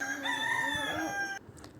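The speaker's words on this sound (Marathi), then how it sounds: "कोंबड्यांचा आवाज तुम्ही ऐकला" A rooster crows at about seven in the morning in a village yard, one long clear cock-a-doodle-doo close by that cuts off sharply, with faint fowl clucking after it.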